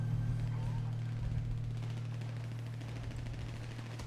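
Rapid automatic gunfire rattles in a zombie survival video game, a steady bursting stream over a loud low hum, heard faintly under people talking.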